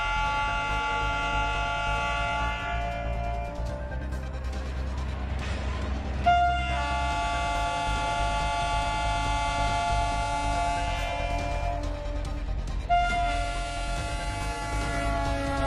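Indian Railways Gonda Express departing Gorakhpur with its headlight on, sounding long, loud sustained horn blasts that repeat in two extended passes over a steady low rumble of the train.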